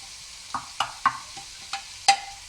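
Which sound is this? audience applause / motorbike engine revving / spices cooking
spices cooking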